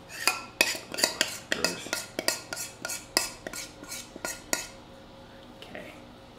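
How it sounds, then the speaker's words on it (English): A metal utensil scrapes and taps against a bowl while cake batter made with egg yolks is scraped out, a quick series of sharp clinks and scrapes in an uneven rhythm that thins out toward the end, with a brief spoken word. "I scrape that out of it"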